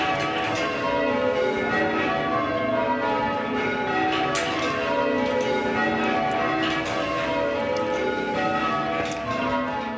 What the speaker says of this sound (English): A full peal can take 3 hours to ring